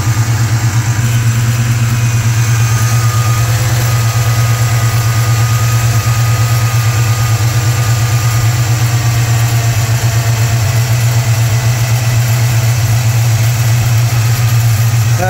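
Car engine idling steadily and loudly close by after spark plug wire work, a constant low rumble with a pulsing throb and mechanical clatter, unchanging throughout.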